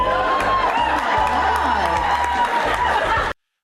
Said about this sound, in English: Her voice is full of excitement, and the crowd starts cheering.